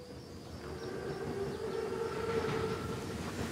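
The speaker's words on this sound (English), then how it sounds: "Train's right on time." A German armored train, the Panzerzug, rumbles steadily in Call of Duty WW2, its continuous low roar carrying a sustained tonal whine like a whistle or horn drawn out across the whole stretch.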